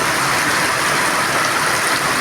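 Heavy rain falls on a village after intense heat, a steady, loud, unbroken hiss of downpour with no voices.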